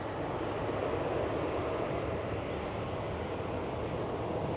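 A KLM Airbus A330 airliner at Schiphol Airport, heard as a steady, fairly faint broadband engine rumble at a distance, with no talk and no change in level over a few seconds.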